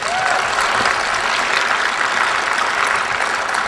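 Audience applause during a speech by Senator Rand Paul about the EPA and the budget, a full, steady roar of many clapping hands from a large crowd, sustained and even throughout.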